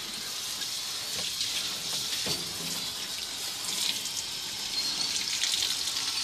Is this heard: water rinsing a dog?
yes